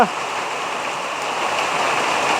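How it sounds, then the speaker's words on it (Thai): Steady rain falls outdoors in an even, continuous hiss that holds at the same loudness throughout, with no voices over it. "ฝนมาแล้ว"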